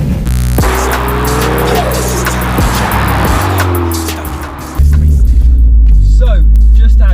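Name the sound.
Renault Megane 3 RS with KTR400 turbo kit driving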